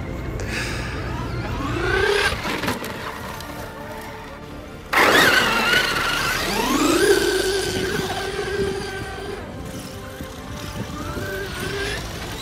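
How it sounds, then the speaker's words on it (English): A heavy 1/5-scale HPI Baja 5T rear-wheel-drive RC car with a brushless electric motor drives through sand dunes; its motor whines upward in two rising surges, the second loud and sustained, with sand and wind noise around it. "If you want a rear wheel drive monster in the sand dunes, get this HPI BAJA."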